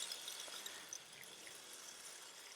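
Faint, steady trickling and splashing of water poured into succulent propagation trays, watered from underneath, a soft hiss-like stream with no talk.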